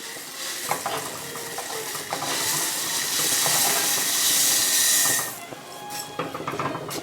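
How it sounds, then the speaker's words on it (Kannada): Water boils with carrots and peas in a pot for shavige uppittu (vermicelli upma), a steady broadband hiss and bubbling that swells in the middle and eases toward the end, with faint clinks, and no voices. "ಈಗ ನೀರು ಕುದೀತಾ ಇದೆ ಕ್ಯಾರೆಟು ಹಾಗೂ ಈ ಬಟಾಣಿ ಕೂಡ ಬೆಂದಿದೆ"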